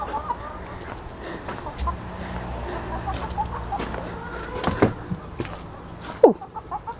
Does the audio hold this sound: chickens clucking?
yes